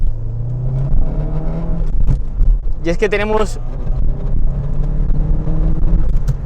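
A Saab 9000 2.3 turbo engine rumbles and revs briefly while someone talks over it, the engine note rising and settling.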